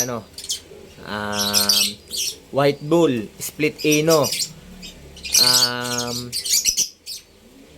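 African lovebirds chirp and squawk in sharp bursts while someone talks close by, their calls scattered between and over his speech.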